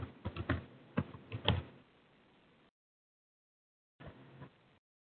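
Keys tapped on a computer keyboard in quick irregular bursts, close and fairly quiet, then a short silence and a brief second flurry of keystrokes, with no voices.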